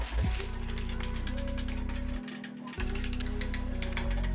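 Bolts on a small portable desk being tightened with a ratchet, a rapid rhythmic clicking run that pauses briefly midway and then resumes, close and clear with no talk.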